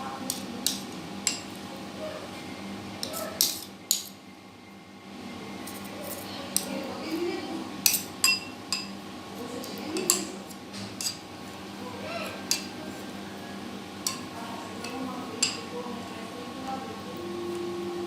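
A spoon stirs and scrapes custard in a bowl, making scattered light clinks and taps against the sides as lumps are worked out, heard under a steady low background hum.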